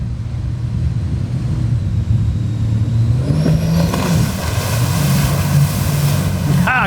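A jet boat approaches fast around a river bend, its engine whine growing louder and rising in pitch over water noise and a steady rumble, with voices nearby.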